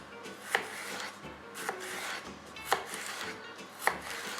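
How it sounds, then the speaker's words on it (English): A knife chops a bell pepper into thin strips on a cutting board, giving four crisp, evenly spaced thuds with a short scraping rub between them, close and fairly quiet. "And now the pepper. Cut it into very thin"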